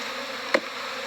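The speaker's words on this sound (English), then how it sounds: "There's a lot of bees in here." Honeybees swarming from an opened hive box during a colony split in Durango, Colorado, a steady dense buzzing hum, close and continuous, with one bee zipping past the ear briefly in the middle.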